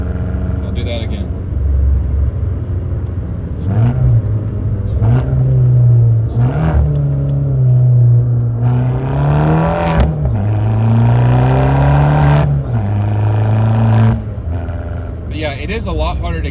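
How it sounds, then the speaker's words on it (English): A car engine revs sharply several times during a heel-toe rev-match downshift, each blip climbing quickly and then dropping back to a steady idle drone, loud and close. "I'm throwing in the other steps of the rev matching while still pressing my brake with my big toe of my right foot."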